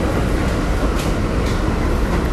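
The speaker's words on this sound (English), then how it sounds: "this is a local train stop going from Bronx to Manhattan" A local subway train running from the Bronx to Manhattan gives off a loud, continuous rumble and roar that fills the whole moment.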